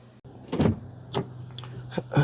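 2015 Toyota Sienna minivan fuel door, fitted with a loose stopper spring, being opened at close range: a few soft plastic clicks and a thump, with a brief mechanical whir toward the end.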